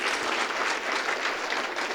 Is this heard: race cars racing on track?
no